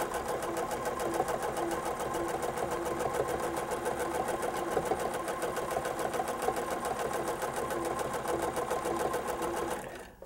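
A sewing machine rapidly stitches a thread feather design, stacking layers of thread, its needle producing a fast, even mechanical chatter close by that runs nearly ten seconds and then stops abruptly.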